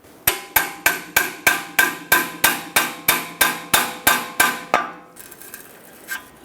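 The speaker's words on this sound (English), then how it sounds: "I'm going to tap it in with a hammer." Hammer tapping a pry bar into the drag link of a 1999-2025 Ford E-350, about fourteen sharp, evenly spaced metallic strikes, close and loud, followed by a pause and one softer knock.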